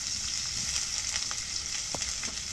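Oil sizzles steadily in a pan as food fries, a loud, constant hiss heard up close with a few faint clicks and taps over it.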